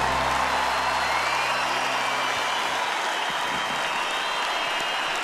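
Concert audience applauding at the close of a Viña del Mar 2012 set, a dense steady roar of clapping that stays loud throughout, with low music fading out in the first seconds.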